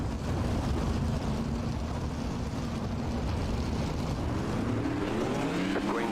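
A dirt track race car engine at a night race throttles with a steady low roar, then rises in pitch near the end as it accelerates, with crowd and track noise around it.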